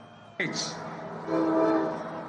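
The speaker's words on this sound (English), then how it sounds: "And here comes the train that he tried to make sure didn't continue to run." A commuter train horn blares suddenly near a Grand Rapids, Michigan rally, sustained and loud, then swells again as a second blast under rumbling crowd and voices.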